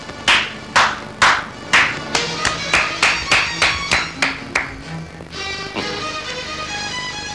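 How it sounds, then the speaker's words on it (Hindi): A single person claps slowly and steadily, about a dozen distinct hand claps in an even rhythm, during a scene with a labour leader in a Pakistani film. The clapping then gives way to music. "भाटिया जी तालियां बजाओ ना।"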